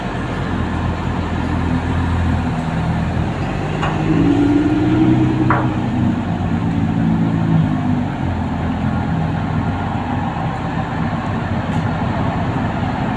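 A small car drives off to be loaded onto a boat. Its engine is a low rumble that swells for a few seconds midway and then settles, steady and fairly near, with no talk over it.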